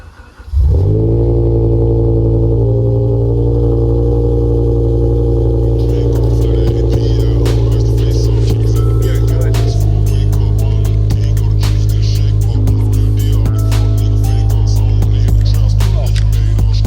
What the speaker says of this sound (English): Always a little scary starting this car because, as you know, the V10 is not the most reliable engine in the world.